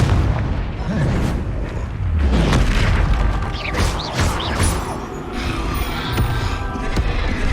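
Hogwarts Legacy Confringo spell blasts boom out one after another, heavy explosive thuds mixed with creaking debris and magical crackle in the middle of a busy fight.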